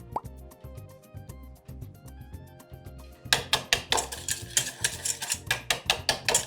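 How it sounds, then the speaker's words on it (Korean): A whisk or spoon mashes egg yolks with olive oil into gribiche sauce, making quick wet rhythmic clicks and plops that turn loud and steady halfway through, over soft background music. "이 노른자를 사정없이 으깨면서 얘를 잘 이렇게 저어줄 거예요"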